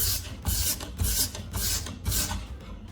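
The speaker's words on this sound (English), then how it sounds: "scraping off those tiny dull spots that make the knife hard to cut with" A knife edge scrapes across coarse grit sandpaper in a few steady, rhythmic passes, each a loud rasping stroke of about half a second, close up and without talk.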